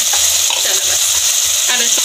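Spices with salt and red chili powder fry and are stirred in a pan for daal tadka, making a loud, constant sizzle with scraping stirs throughout.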